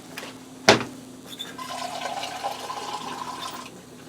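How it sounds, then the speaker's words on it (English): Water poured from a can into a pot of tomato sauce on the stove, a steady splashing pour after a sharp knock, running for about three seconds, close and moderately loud. "I'm going to add a little bit of water to it."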